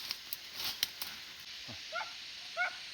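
A dog out in the countryside near an animal trap gives a few short barks and yips, sounding at a moderate distance against quiet outdoor background.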